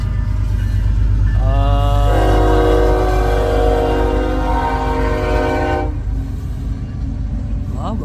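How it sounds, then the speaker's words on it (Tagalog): A train rolls past on the railway with a loud, steady low rumble of wheels and cars, while a sustained horn blast sounds for several seconds near the start and then cuts off, the passing rumble continuing afterward. "may train na dumaan"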